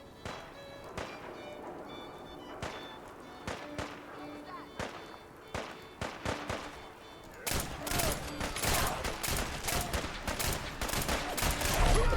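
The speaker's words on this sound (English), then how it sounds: "Who's firing rockets?" Rockets and explosions going off in Fallout 4, sharp scattered blasts repeating irregularly, then a denser, louder barrage of bursts toward the end, with no talking.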